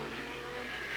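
A 1988 IMSA GTO race car rolls down pit lane at Sears Point, its engine a steady, loud drone that holds through the whole second with no talk over it.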